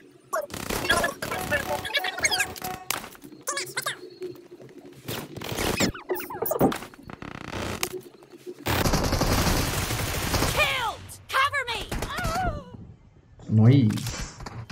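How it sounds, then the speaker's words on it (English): Bursts of rapid gunfire in a mobile video game crackle on and off in quick volleys, mixed with voices talking over the shooting. "you will get all the game sound, you know, gunshots and everything"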